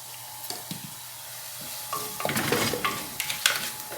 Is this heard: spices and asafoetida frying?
yes